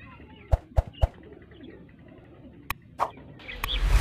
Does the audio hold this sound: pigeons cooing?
yes